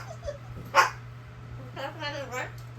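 A cockatoo imitates a dog, giving short yips and bark-like cries that rise and fall, near and fairly loud, with a steady hum in the background.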